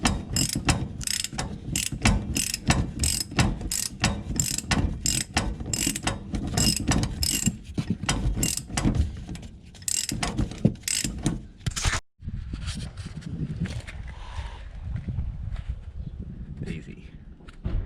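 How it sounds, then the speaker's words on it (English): A ratchet tightens the nut on a strut during a shock and strut swap on an older F-150 Lightning pickup: rapid, close pawl clicking in repeated bursts, then a pause and quieter handling noises, with a voice speaking at times. "Eventually the nut will get up high enough that you can stick in a ratchet and finish the job."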